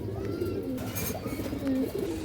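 A ring-eyed pigeon with feathered feet coos in low, rolling phrases, close by, with faint chirps and a steady hum underneath.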